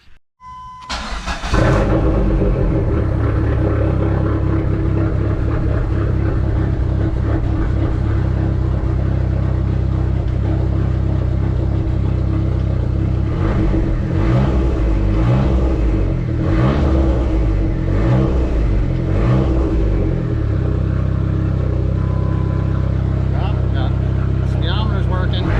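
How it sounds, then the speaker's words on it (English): A Dodge Neon SRT-4 engine cranks and fires, then idles loud and close with a steady rumble and a few revs, and talk runs over it throughout. "We're gonna fire this thing up."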